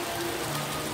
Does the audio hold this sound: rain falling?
yes